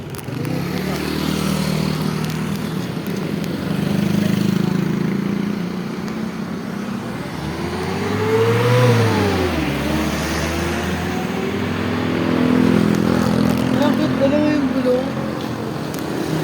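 A motorcycle engine drones nearby, its pitch rising and falling in a few revving swells over a steady rumble, with people talking over it.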